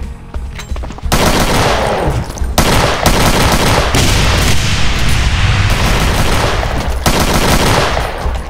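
Rapid, sustained minigun fire in the video game Brutal Doom, loud and nearly continuous, with a brief quieter lead-in before the heavy barrage starts and a few short breaks in the stream of shots.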